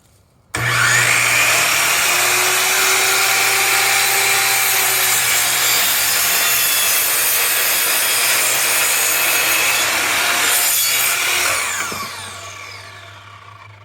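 A power saw cuts through a bundle of 20 wooden trellis stakes in one pass, a loud continuous grinding whine that starts abruptly and runs steady for about eleven seconds before winding down.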